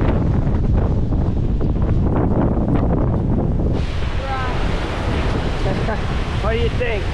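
Heavy ocean surf roars with strong wind buffeting the microphone; the rumble shifts midway and faint bird calls come through the churning water.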